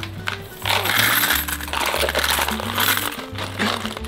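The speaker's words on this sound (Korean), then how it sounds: "그러면 제가 일단 동전을 틀어서" Coins poured into a coin counting machine, a dense, continuous metallic clatter and jingle lasting several seconds, loud and close, with a low mechanical hum underneath.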